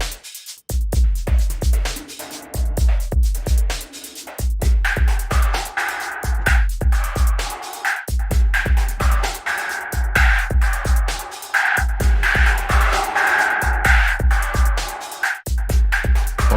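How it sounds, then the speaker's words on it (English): A Rob Papen synthesizer plugin plays a bright, repeating arpeggio pattern over a punchy, steady drum beat with thumping kicks, loud and continuous throughout with brief drop-outs, and no voices. "So I'm just playing around with the ARP sound. So I have a ARP sound, I have a bit of drums."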